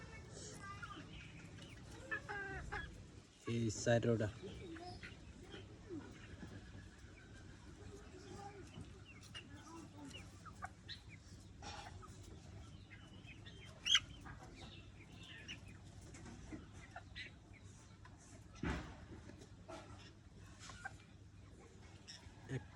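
Free-range chickens and roosters cluck and call softly around a poultry farm, with quiet scattered clucks over a low background while a person speaks briefly.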